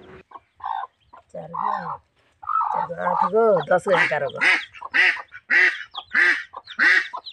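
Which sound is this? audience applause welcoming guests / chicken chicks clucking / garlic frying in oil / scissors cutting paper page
chicken chicks clucking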